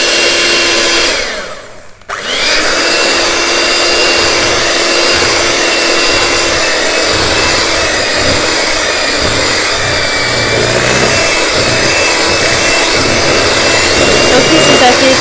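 An electric mixer whirs steadily through crêpe batter, with a brief cut-out near the start before the high, continuous motor whine resumes and runs loudly to the end.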